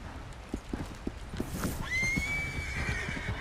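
A horse in the video game Red Dead Redemption Online gives a long, loud whinny after a run of clip-clopping hooves, the neigh rising and trailing off near the end, without talk over it.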